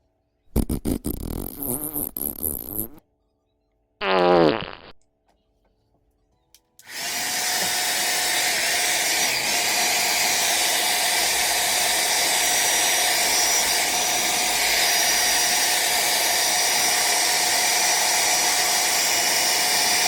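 An old Hobao Pirate RC car's nitro engine rattles through a few short rough bursts with gaps between them. It then settles into a continuous loud, buzzing high-pitched whine as it warms up, close and steady to the end.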